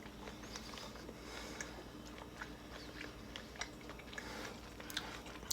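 Crunchy fried mush, cooked in broth with meat flavor, chewed close to the mic in a steady run of crisp bites and crunches, with no talking.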